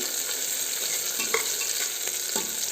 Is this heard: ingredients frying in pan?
yes